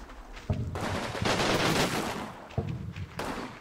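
Machine gun fire from a bunker in the Combat Mission Fortress Italy war game crackles in dense loud bursts with sharp reports and rumbling echoes, with no talking.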